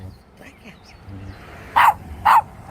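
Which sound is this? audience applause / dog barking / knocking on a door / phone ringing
dog barking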